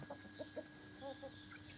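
Hens cluck in a farmyard, a few short close calls scattered over a quiet background with a faint steady hum.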